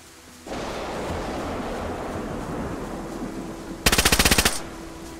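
Rapid burst of automatic gunfire in the video game DayZ during a raid on a base, about ten sharp shots in quick succession over a steady windy outdoor background, fairly loud and close.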